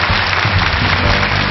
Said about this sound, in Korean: 세 분에게 박수 다시 한번 부탁드립니다.